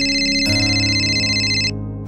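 An electronic phone ringtone plays a repeating melodic tone pattern, loud and close, then cuts off near the end leaving a low hum.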